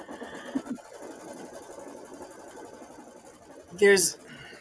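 A Brother Luminaire embroidery machine stitches a quilt placement file, giving a steady, moderately loud mechanical whir with a brief louder burst near the end, while people talk over it.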